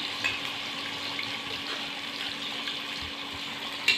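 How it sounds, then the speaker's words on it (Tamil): Chicken 65 frying in a pan over low heat, a soft continuous sizzle with faint crackles and a few small clinks, heard up close and alone. "இப்போ நம்ம 65 போட்டு எடுத்துக்கலாம்"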